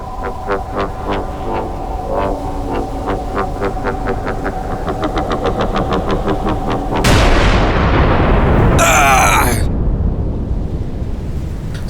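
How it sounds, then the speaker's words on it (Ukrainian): A deep, booming explosion erupts midway through a stretch of rapid gunfire, followed by a rumbling roar and a brief sharp burst of noise. "Знов вибух."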